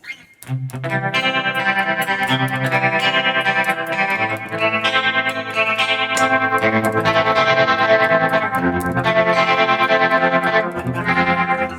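Guitar tones from a Fractal Audio FM9 preset: a sustained, chorus-tinged electric guitar with light crunch rings out in chords and notes, continuous and full for the whole stretch with no talking.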